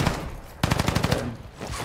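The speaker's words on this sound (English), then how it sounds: "He's shooting me now." Rapid automatic gunfire in a PvP match on the Ashika map, a close, loud burst of evenly spaced shots after a brief lull, with a faint voice underneath.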